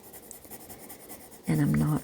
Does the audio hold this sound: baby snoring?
no